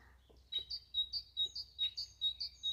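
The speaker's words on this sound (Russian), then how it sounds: "Поет весну птица, да." A small bird sings in a spring forest, a quiet run of bright, high chirps repeated in an even rhythm about twice a second against a faint low hum, no talking.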